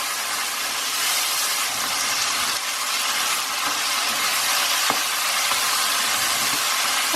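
Cashews and chili sizzle in hot oil for a curry, a loud, steady hiss with faint crackles and no talking.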